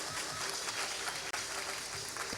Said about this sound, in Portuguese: Diego Ribeiro do Serro, uma salva de palmas, seja muito bem-vindo, Diego.